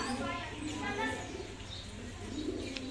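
Sialkoti pigeons coo softly in low, throaty bursts while a person talks over them, with a few faint chirps nearby.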